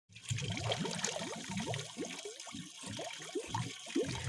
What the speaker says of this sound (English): There is a nice fountain with really cold water in front of the house.